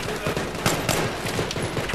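Dense gunfire in Battlefield 3, a loud, continuous burst of rapid overlapping shots and cracks filling the whole moment without pause.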